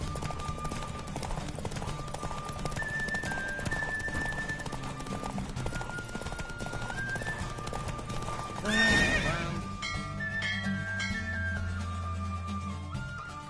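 Galloping hooves pound steadily from a horse in The Witcher video game, then a loud whinny bursts out near the nine-second mark before the running settles under lingering game music.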